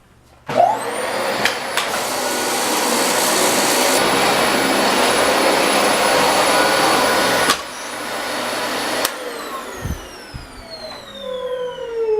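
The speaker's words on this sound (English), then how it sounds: "Let's vacuum it up." A vacuum cleaner runs over carpet strewn with loose clumps, starting with a thump and a steady loud whine for several seconds, then cutting off and winding down with a falling tone.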